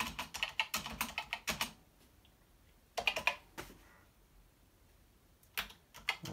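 Keys clack on a repaired Commodore PET keyboard, close and crisp, in quick bursts of rapid presses separated by short quiet pauses.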